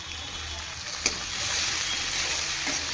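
Tomatoes and green chillies fry in a pan with onions, a steady close sizzling hiss throughout, with one brief tap of a utensil near the start and no talk.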